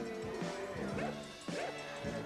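Dog barking at a televised Christmas knockout games event, three or four sharp yelping barks in quick succession, fairly close, amid background noise.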